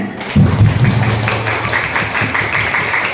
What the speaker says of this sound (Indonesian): kita beri aplaus dengan tepuk tangan